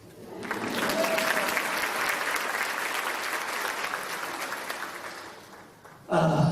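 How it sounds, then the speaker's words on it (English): Audience applause at a Connecticut teaching event after a guest is introduced, a steady dense round of clapping that holds for about six seconds, then fades as a single voice begins speaking. "make sure you give him a hand clap"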